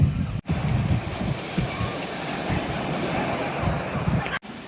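Waves wash onto a beach at Aberystwyth, heard as a broad rushing surf with a strong gusting wind buffeting the microphone, loud and close, with a couple of brief dropouts.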